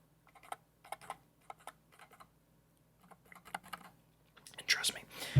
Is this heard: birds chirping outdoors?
no